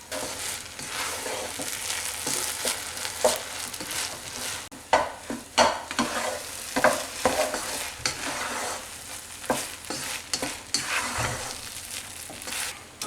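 Rice and coconut milk for Sri Lankan milk rice (kiribath) cooking in a pan, with steady sizzling and bubbling and repeated scraping stirs of a spoon throughout, close and fairly loud with no talking.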